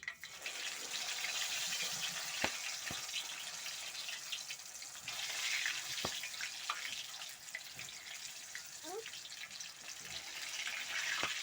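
Potatoes deep frying in very hot cooking oil, cut large, give a steady hissing, bubbling sizzle throughout with a few sharp crackles and pops, close and continuous with no talking.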